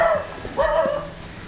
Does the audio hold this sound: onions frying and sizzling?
no